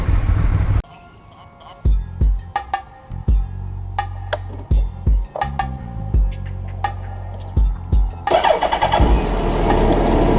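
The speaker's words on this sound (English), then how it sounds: "This is the Ducati 848 Streetfighter, baby." A Ducati 848 Streetfighter motorcycle engine blips through a series of short, loud revs separated by brief gaps, then settles into a rougher, steadier running sound at the end.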